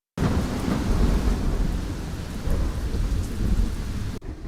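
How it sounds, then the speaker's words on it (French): Steady heavy rainfall with rolling thunder during the rainy season in Bamako, Mali, loud and continuous, with a deep rumble under the dense hiss of rain and no voices. "Nous sommes en saison de l'hivernage, la période où la pluie bat son plein à travers tout le pays."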